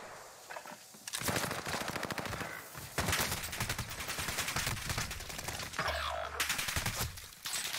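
Gunfire in the video game Warzone crackles in long rapid automatic bursts with short gaps between them, moderately loud and dense throughout, with no talking.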